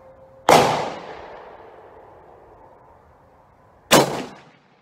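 Two sharp, loud rifle shots from a Ruger American Go Wild chambered in 300 Win Mag, fired at a 50-yard range about three seconds apart, each ending in a long rolling echo that fades before the next blast.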